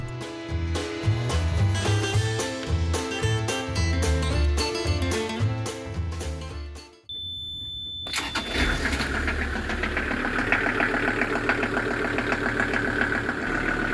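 A boat engine runs steadily and fairly loud after a brief quiet gap, its continuous drone taking over from music in the first half while the gear is tried.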